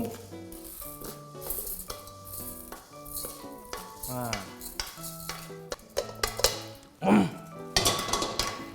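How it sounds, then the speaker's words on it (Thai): Ingredients for a taro rice bake, everything except the shrimp, are tipped from containers into a heavy cooking pot with scattered clinks, scrapes and stirring knocks, while someone talks over the work. "ก็มาถ่ายลงหม้อนะครับ แบบนี้ ใส่ทุกอย่างยกเว้นกุ้ง"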